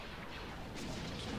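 Space battle gunfire in the Star Wars Empire at War game: a dense, rumbling barrage of shots and blasts that swells slightly toward the end, quiet overall.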